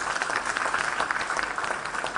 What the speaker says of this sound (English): I want all of us to clap for our sisters, our mothers, the ones who hold Somali side together.